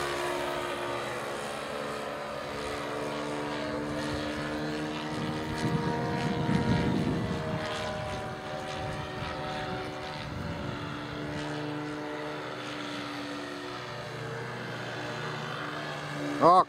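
A propeller engine drones steadily with shifting pitch as a radio-controlled model airplane flies nearby, its whine rising and falling, with voices talking faintly underneath.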